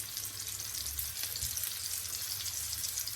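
A burger patty cooks under a grill with a steady, close frying sizzle that runs evenly throughout, a few soft low knocks and thuds underneath, with no talking.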